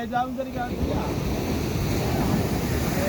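Big ocean waves surging around a small boat at sea, a loud continuous wash of surf with heavy wind noise buffeting the microphone throughout.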